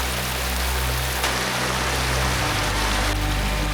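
Waterfall water rushes in a dense, steady roar up close during a mountain hike, continuous and loud with no voices.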